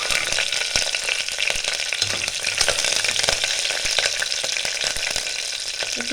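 Curry leaves, chillies and nigella seeds fry in hot oil, a loud, dense sizzle with constant popping crackles running close and steady throughout.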